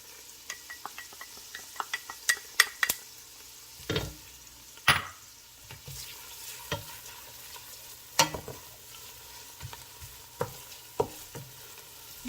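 Garlic added to olive oil and butter in a pan gives a soft, steady sizzle, broken by a few sharp clacks of a utensil stirring and scraping against the pan in a quiet village kitchen.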